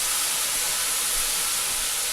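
Balsamic vinegar hits a hot pan to deglaze it, giving a loud, steady broadband hiss of sizzling steam that holds evenly throughout with no voices.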